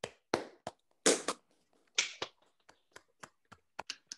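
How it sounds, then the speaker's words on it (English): Sparse applause after a talk, a few scattered, close hand claps and taps spaced irregularly in a quiet room, thinning out toward the end. "If anyone wants to join me in a round of applause."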